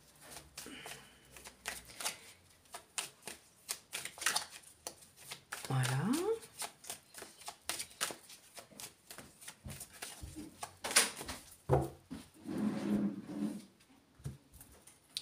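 A tarot deck is shuffled and cut by hand, giving rapid riffling card flutters close to the listener in quick repeated bursts, with a voice speaking French over much of it.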